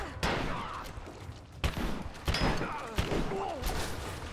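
Rapid gunfire in the action game Rise of the Tomb Raider: a string of sharp, fairly faint shots fired at irregular intervals over a busy, murmuring game background.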